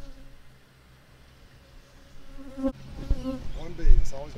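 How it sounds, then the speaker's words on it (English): A single honeybee buzzing right at the microphone beside a Flow Hive during a honey harvest on a satsuma farm, a close, loud, wavering drone that swells in the second half over faint outdoor ambience. "Always got to be one bee playing with the mic."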